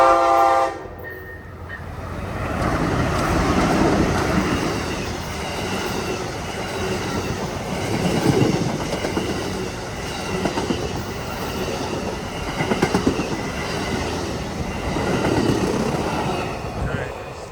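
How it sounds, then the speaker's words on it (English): An Amtrak Silver Meteor passenger train rolls past slowly at about 40 mph, a loud sustained rumble with rhythmic wheel clatter and squeals that swell and ease as cars pass. "this is the Amtrak Silver Meteor. Kind of going wicked slow this morning"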